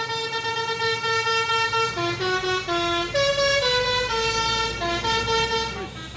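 A telolet musical horn on a truck carrying oil palm fruit plays a loud, melodic run of stepped tones, changing pitch several times in a tune-like sequence before fading at the end.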